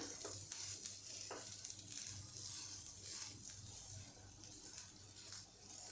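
Green pea cutlet mixture with freshly grated coconut being stirred in a pan, a faint low sizzle under soft repeated scraping strokes, close and quiet, with no one speaking.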